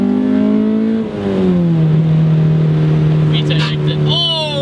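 Honda car engine revving hard into VTEC, a loud, close, sustained drone whose pitch shifts and then holds steady, with a voice breaking in near the end.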